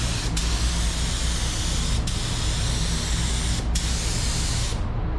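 A spray gun laying metallic paint onto a Mitsubishi Eclipse GSX, a continuous loud hiss with three brief breaks as the trigger is released between overlapping passes.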